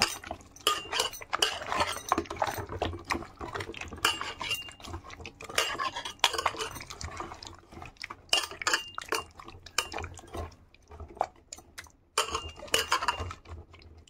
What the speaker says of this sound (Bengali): এবার সবগুলো ভালো করে মেখে রেখে দেবো 2 ঘন্টার জন্য।